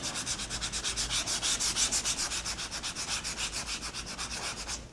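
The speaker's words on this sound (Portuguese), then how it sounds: "vou pegar a minha lixa e vou dar uma lixada nessa parte aqui" Sandpaper rubbing back and forth over a napkin decoupage craft piece, a steady rhythmic scratching with quick regular strokes lasting throughout, close and moderately loud with no talking.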